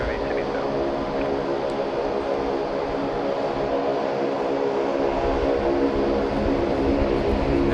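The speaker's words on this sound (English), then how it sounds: "Japan Air 52, and is now being given clearance for takeoff" A Japan Air heavy jet airliner taking off from Sydney Airport, a steady, continuous broadband engine roar holding loud throughout, heard from a distance.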